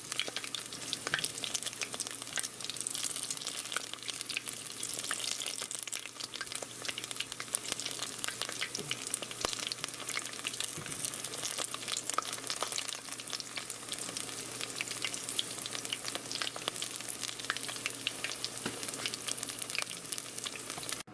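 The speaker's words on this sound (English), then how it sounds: "And there's the first batch that I all deep fried." Mini shrimp egg rolls deep frying in hot oil, a steady, even bubbling sizzle with crackling pops that runs unbroken throughout at a moderate, close level, with no talking.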